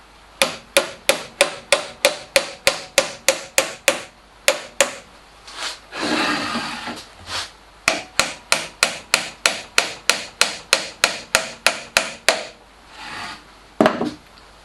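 Stainless steel dowel pins with tapered front edges are hammered into the holes of a box jig from the rear: quick, regular runs of sharp, close metallic-wooden taps, broken midway by a short burst of rubbing and a brief pause.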